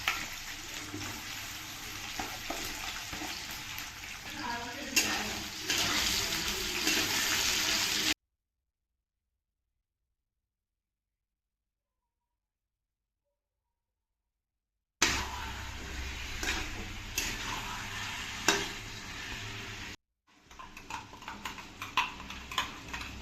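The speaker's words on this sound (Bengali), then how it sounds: "গরম তেলে গরম মশলা সব কিছু যাচ্ছে" Whole spices and onion fry in hot oil for a spicy chicken dish, giving a continuous hissing sizzle that breaks off into silent gaps before resuming.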